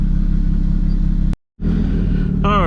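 A Toyota Supra MKIV engine runs at a loud, steady idle rumble close by. The sound cuts out for a moment, then resumes and climbs in a rising rev at the end.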